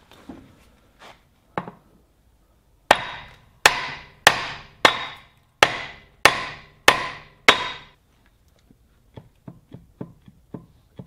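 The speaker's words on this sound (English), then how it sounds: "Just give it a couple of whacks," A hammer strikes a brass punch to drive a stuck pinion gear out of an axle case: a few light taps, then eight loud, evenly spaced metallic whacks close by, followed by quicker lighter taps.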